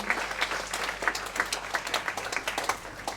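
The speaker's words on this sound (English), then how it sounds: "Another applause for you guys for coming." Audience applause for speakers at a PechaKucha Night event in a Bali venue, a crowd clapping steadily with distinct individual claps standing out, moderately loud and continuous.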